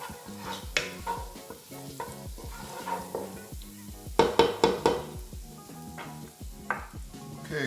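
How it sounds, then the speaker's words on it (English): Garlic and onions sautéing in a pan, a close crackling sizzle broken by repeated clinks and scrapes of a utensil stirring, louder in a burst midway, without talk. "Let it stir for about 2 minutes"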